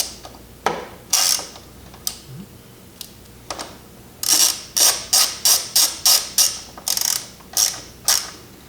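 Ratchet tightening the triple tree bolts on an MV Agusta F3 800 motorcycle: a few scattered clicking strokes, then a quick run of sharp, close ratcheting clicks in steady rhythm, loud against quiet garage background.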